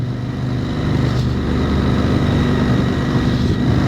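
A 2023 KTM 890 SMT motorcycle cruising on a road in fourth gear, its steady engine drone and wind rumble continuous and loud throughout, with no talking.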